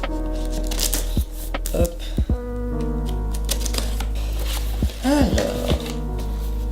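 A new camera box being opened, with cardboard packaging rustling, scraping and crinkling in close, irregular bursts and sharp handling clicks while someone speaks briefly in French.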